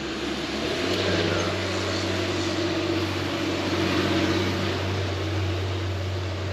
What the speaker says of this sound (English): Noisy FedEx truck going up the hill.